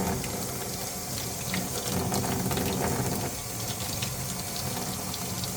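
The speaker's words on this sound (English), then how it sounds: "I'm just gonna rinse it off with hot water." Hot tap water runs over a PCV valve from a 1.5L Honda CR-V engine, a close, steady splashing rush of water striking the part and the sink for several seconds with no talk.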